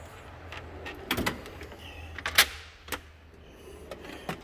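Drawers on an Epiq Sidekiq tool box slide and click shut in a series of short, close mechanical clatters and thumps, with quieter rolling slides between them and no talk.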